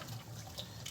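Water poured into a cooking pot for menudo, a brief soft splashing trickle that is quiet and close, lasting about a second.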